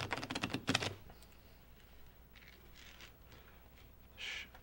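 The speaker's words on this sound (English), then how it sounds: "Shuffle that deck around." A short burst of riffling cards at the start, followed by a few soft, scattered shuffling and sliding sounds in a quiet room.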